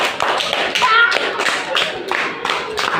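A classroom of children applauding for a classmate named Saim, dense close clapping that continues steadily for the whole stretch, with a few voices underneath.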